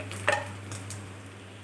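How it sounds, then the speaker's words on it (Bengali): A spoon stirs khorkol leaf paste with salt and turmeric in a kadai, giving faint scrapes and a couple of soft metallic clinks over a low steady hum. "দিয়ে ভালোভাবে নেড়েচেড়ে আমি ভেজে নেব"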